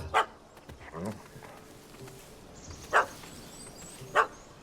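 In The Witcher 3 game, a dog barks at a cat that has run up a tree: three sharp, spaced barks ring out over a faint ambient background, with a soft whimpering sound between them.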